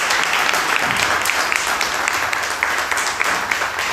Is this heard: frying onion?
no